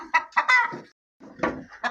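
A broody hen on her nest clucks up close in short, throaty bursts, falls silent for a moment, then resumes with a few more clucks.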